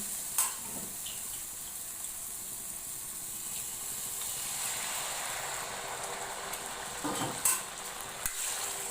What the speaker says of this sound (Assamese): ইয়াতে মই এতিয়া পানী দিম।